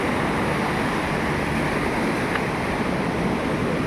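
Waves roll in steadily at Manukan Beach at low tide, a loud, unbroken wash of surf mixed with wind rumble on the microphone and no clear individual breakers.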